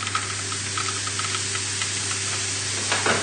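Mushrooms tipped into a hot, lightly oiled pan on turned-up heat give a steady close sizzle and hiss with faint stirring and scraping, no talking.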